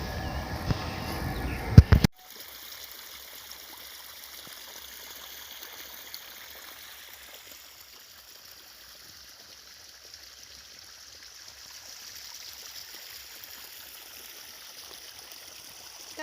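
Irrigation water flows steadily from a pipe into a farm field, a soft continuous trickle and gurgle, after a brief burst of louder handling noise at the start.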